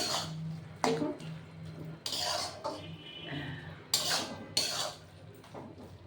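Stirring veg tadka seasoned with chaat masala in a pan, heard as several sharp utensil scrapes and clinks against the metal, spaced irregularly over a low steady hum.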